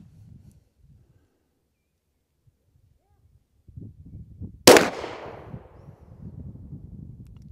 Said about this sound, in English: So at 20 yards, I'm gonna print a group shooting the irons.